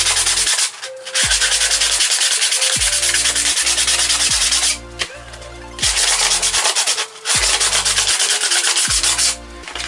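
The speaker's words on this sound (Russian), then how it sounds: "снять при помощи шкурки." Sandpaper rubbed hard against metal burrs on a homemade beach-detecting sand scoop, a loud, steady rasping scrub in long strokes broken by brief pauses, close up with no talking.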